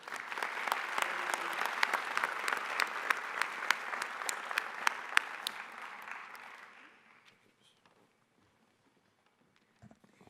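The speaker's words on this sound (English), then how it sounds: "Give yourselves another round of applause" Audience at a Morehouse College NSLS induction ceremony breaks into loud, sustained applause with many clapping hands, which fades out after about seven seconds, leaving near silence.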